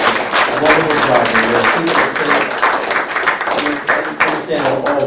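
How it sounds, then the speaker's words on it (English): Applause at a Media Borough legislative meeting for the volunteer Media Fire Company, a dense, loud, continuous burst of clapping from a room full of people, with voices mixed in. "Let's give them a great big round of applause."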